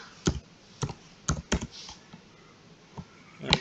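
Keys on a computer keyboard are struck in a sparse, uneven sequence of close, crisp taps over a faint background hiss.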